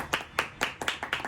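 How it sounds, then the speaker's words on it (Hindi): A few people clap for a student at Devbhoomi Convent Public School, about six sharp, loosely spaced claps close by, with no talk over them. "एक नंबर तालियां।"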